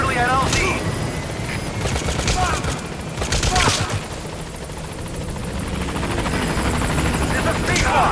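Helicopter arriving at a landing zone in Metal Gear Solid V, a rhythmic rotor chop mixed with bursts of gunfire and radio voices in the game.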